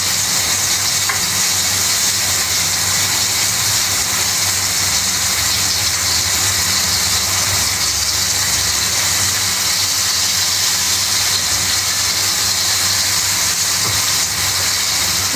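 Food sizzles and fries loudly in a wok at close range, a continuous hissing crackle that holds steady throughout.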